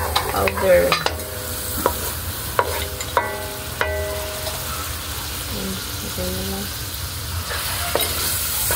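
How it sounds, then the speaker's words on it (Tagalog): Garlic powder and black pepper are stirred into pancit canton with chicken liver in a frying pan: repeated close scraping strokes and clinks of the utensil over a steady sizzle. "Haluin po natin yung garlic powder."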